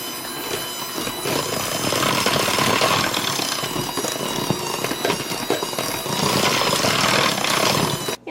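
An electric mixer works flour into cookie dough for white chocolate cranberry cookies, giving a loud, continuous whirring churn that holds steady throughout and is heard alone.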